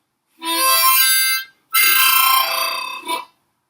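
A harmonica is blown in two quick, loud bursts of reedy chord, with a brief gap between them and no voices.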